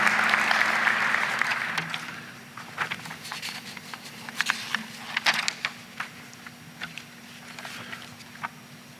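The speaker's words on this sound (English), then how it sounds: "Let's have another round of applause for our panelists" A room of people at a mining conference lecture applauds panelists, dense clapping at first that thins into scattered, individual claps as it fades out.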